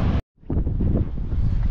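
Strong coastal wind buffets the microphone on the Great Ocean Road in Australia, a loud, rumbling roar that cuts out for a brief moment and then returns steadily for the rest of the clip.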